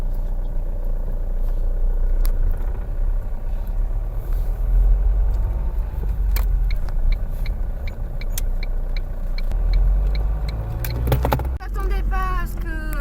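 A car on a country road test drive, its engine rumbling steadily from inside the cabin with faint clicks and rattles, and a brief chirp near the end.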